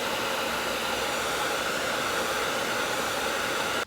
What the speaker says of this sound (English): your wife's expensive hairdryer and heat up the area